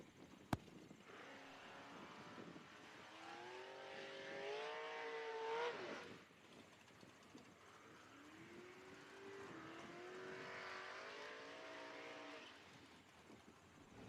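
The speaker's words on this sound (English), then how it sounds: "Mark Bacon going to make a whole lot of noise in his Ford Mustang" Ford Mustang drag race car at a bracket race, heard from a distance as an engine revs and rises in pitch twice during runs, the second time fading away.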